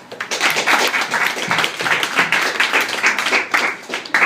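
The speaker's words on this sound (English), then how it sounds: "everybody clap" Audience clapping in a stand-up comedy crowd at a saloon in Knoxville, Tennessee, loud, dense and sustained for several seconds with scattered whoops, no talk from the stage.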